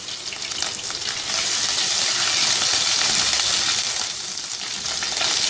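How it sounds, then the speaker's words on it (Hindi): Ginger garlic paste sautéing in a hot pan gives a loud, close, continuous sizzle with faint stirring scrapes, swelling slightly in the middle. "जिंजर गार्लिक पेस्ट, इसको थोड़ा सा सौते करेंगे"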